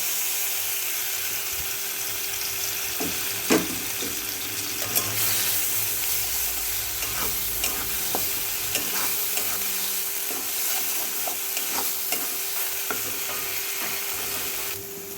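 Dried loitta fish paste sizzles in oil in a wok, with a steady fry hiss under scattered scraping stirs and a sharper clack near the start; no one speaks.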